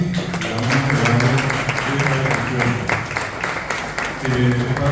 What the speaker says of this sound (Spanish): vamos a dar un aplauso a Nancy